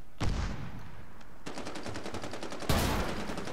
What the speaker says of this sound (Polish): Tu słyszę strzały